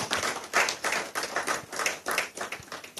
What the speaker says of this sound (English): let's welcome him with a very warm applause